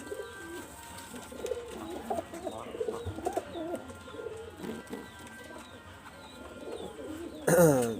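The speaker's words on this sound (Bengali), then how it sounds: "আর কবুতর জোড়া আমি ছাড়িয়ে দেখাচ্ছি দেখেন।" Several soft, throaty coos from a pair of pigeons repeat close by, with light rustling and a brief louder flutter of sound at the very end.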